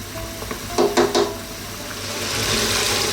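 A pan of lamb stew sizzles softly while being stirred, a few quick spoon scrapes early on before the hiss swells gently toward the end; no voices.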